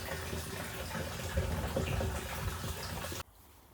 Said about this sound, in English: How long is a wheelie bin going to drip